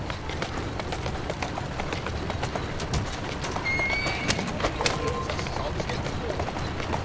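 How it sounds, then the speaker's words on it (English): A horse in Assassin's Creed Syndicate trots with rhythmic clip-clop hooves and lets out a whinny, amid dense game background noise. "Who's a good horse?"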